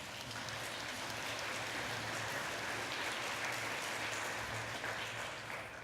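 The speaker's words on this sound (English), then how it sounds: "You should give him a clap." An audience at an Order of Australia awards gathering gives sustained, even clapping for a medal recipient, a dense wash of hands with a low hum underneath.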